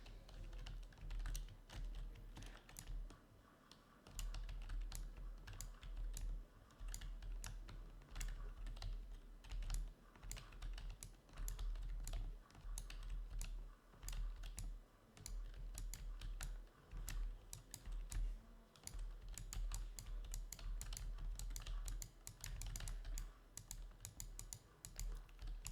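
Rapid, intense clicking on a computer keyboard while playing Minecraft, a steady stream of sharp, close keystrokes with no speech.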